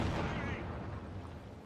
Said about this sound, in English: Shots flying into the center from the AT gun